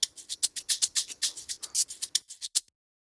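A third shaker sample from an FL Studio Afro beat runs a quick, bright shuffling pattern of dense hissy strokes for under three seconds, alone, ending sharply.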